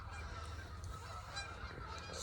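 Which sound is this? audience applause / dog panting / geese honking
geese honking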